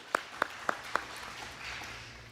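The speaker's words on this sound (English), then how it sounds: "give them a clap" Four sharp, evenly spaced claps ring out at a congregational Rosh Chodesh gathering, fairly faint and close. A quiet murmur of room noise follows.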